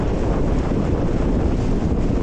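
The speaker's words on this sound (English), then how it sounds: "Absolutely windy this morning." Heavy morning wind blasts straight into the microphone beside a waterfall, a dense, rumbling roar that never lets up.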